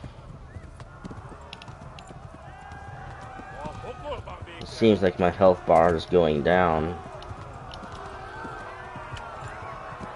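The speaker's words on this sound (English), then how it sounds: "I just gotta keep riding this horse." Horse hooves clip-clop at a quick gallop throughout in Kingdom Come: Deliverance II, while someone talks over them midway.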